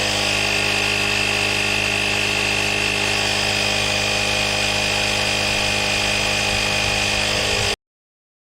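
The AstroAI S8 jump starter's built-in air compressor runs with a steady, loud, buzzing whine as it inflates a tire, holding constant for several seconds before cutting off abruptly into silence.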